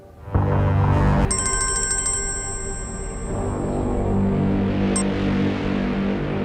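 A telephone ringtone sounds loudly and close, a bright electronic ring that starts abruptly and then gives way to a low hum, in a Hindi-language drama scene.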